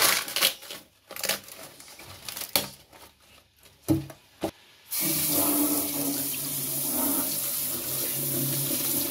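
Kitchen clatter of dishes and objects gives way to a steady stream of tap water running into a sink or bowl for soaking ingredients while preparing arrowroot soup, loud and continuous to the end.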